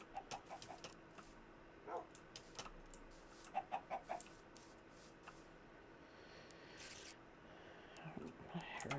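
Chickens cluck in the video game Minecraft, short soft bursts scattered in a quiet scene, faint and intermittent.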